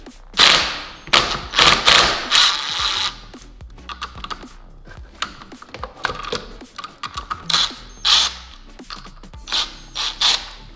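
A wrench works loose the pressure plate bolts on a Honda Grom with a series of quick metallic clicks and ratcheting bursts, close and sharp, in irregular clusters with short pauses between turns.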